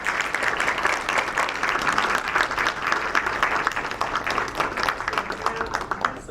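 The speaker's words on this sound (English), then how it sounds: "Let's give them another big round of applause." A school audience at a student speak-out event claps in sustained, loud applause that holds steady throughout, dense and continuous with no talk over it.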